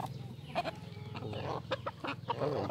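A Thai-bred fighting rooster clucks and gives short throaty calls in a quiet string of bursts, fairly close and at low level, with no talk over it.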